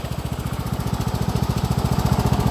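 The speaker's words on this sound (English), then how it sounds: "But we have a healthy lawnmower." A Cub Cadet riding lawn mower engine runs steadily nearby, a rapid, even chugging pulse that keeps a constant rhythm throughout, with no one talking.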